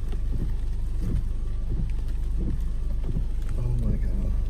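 Heavy rain pours down in a July storm at Big Bear Lake, California, a constant dense hiss with low rumbling gusts throughout, close and fairly loud, with no voices.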